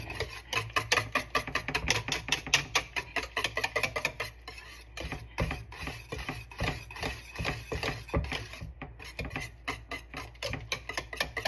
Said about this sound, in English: That's why I'm using the whisk.